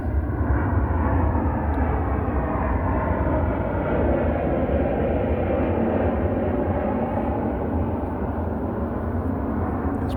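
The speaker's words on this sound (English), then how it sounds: "there's plane going over" Airplane passing overhead in an urban neighbourhood in Queens, a steady broadband low roar that holds loud and constant throughout without any voices.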